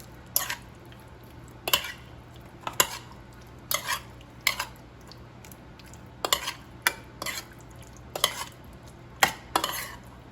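Chicken pieces being mixed with black pepper and garlic powder in a bowl, a quiet run of about a dozen irregular clinks and scrapes from a utensil against the dish.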